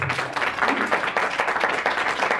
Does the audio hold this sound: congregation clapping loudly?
yes